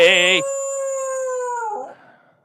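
A single sustained dog howl, loud and close, rising from a short yelp into a long wavering tone that fades out after about two seconds.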